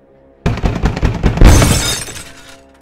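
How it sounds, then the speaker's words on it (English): A horror sound effect of a fist pounding on window glass: a quick run of heavy knocks builds into a loud, crashing, glassy burst that rings out and fades. "I realized it sounded like a fist being pounded against glass."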